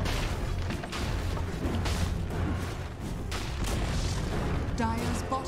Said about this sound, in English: Dire's bottom tower is under attack.